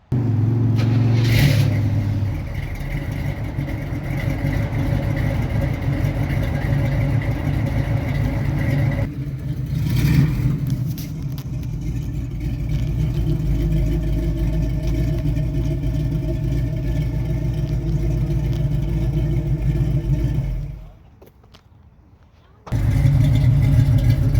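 A 1972 Chevrolet Nova SS-clone engine idles steadily with a deep, even rumble, close and loud, briefly dropping out near the end before resuming.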